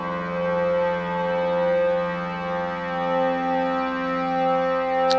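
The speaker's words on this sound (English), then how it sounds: "This is the square end of the wave." A sustained, buzzy wavetable synthesizer square wave tone rich in harmonics, holding steady with a slight slow wavering in level, no voices.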